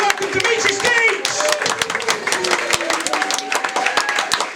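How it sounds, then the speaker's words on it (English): A comedy club audience applauds and cheers as the comedian walks onto the stage, dense clapping with whoops over a loud, lively room. "start off the applause, spread it around the room"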